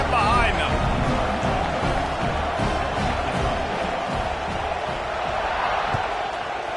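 Stadium crowd at a Miami versus UCLA college football game, a broad continuous roar of cheering filling the space, with an announcer talking over it.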